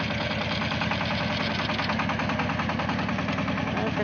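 Tractor engine running on a village potato-digging plot, a loud steady chugging idle with a rapid regular knock that continues throughout.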